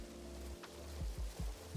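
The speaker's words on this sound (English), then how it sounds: "I'm also gonna turn down this rain just a bit." Rain falls steadily in the Minecraft video game, a soft, even hiss with a few low thumps, heard alone at low volume.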